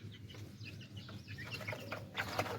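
Chickens cluck softly while eating grain on a rooftop poultry farm, with scattered short clucks and pecking sounds over a low, faint background.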